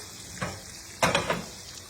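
Twelve sage leaves cook in browning butter for gnocchi, giving a soft steady sizzle with a few brief louder bursts of crackle and stirring, close up and alone.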